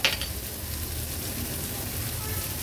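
Prawns fry in a pan over a high flame, giving a steady, close hiss of sizzling oil with soft crackles and no pause, after a brief clatter at the start.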